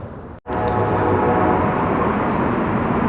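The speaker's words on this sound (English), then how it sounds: "Now as the train is crossing Woodward, out of camera range here" After a brief cut, an Amtrak Wolverine Service passenger train rumbles past loudly and steadily in Pontiac, Michigan, a heavy continuous roar with faint humming tones.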